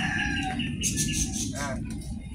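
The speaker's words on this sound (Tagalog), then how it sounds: "may mga manok na mga dito rin" Chickens cluck and call nearby over a constant low outdoor rumble, with short bursts of crowing-like cries.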